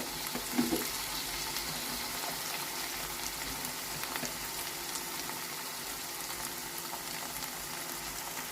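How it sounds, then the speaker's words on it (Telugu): Fenugreek leaves frying in a pan over a medium flame give off a steady, soft sizzle that runs unbroken throughout, with a faint clink early on. "మీడియం ఫ్లేమ్లో పెట్టి బాగా వేయించుకున్నాం మెంతికూర మగ్గుతుందండి"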